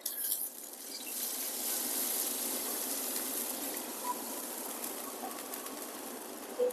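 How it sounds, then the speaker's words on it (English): Liquid such as wine hits a hot pan that meat was just seared in, deglazing it with a steady, hissing sizzle. The sizzle holds evenly throughout at moderate loudness, with no talking. "pouring it into a nice hot pan that meat has been seared with"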